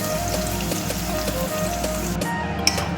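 Ground leaves of two local herbs mixed with a little water, sizzling in a hot kadai for Assamese fish curry, with a steady bubbling hiss and soft crackles under faint low hum.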